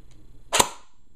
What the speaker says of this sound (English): I'm just gonna shoot once for you guys.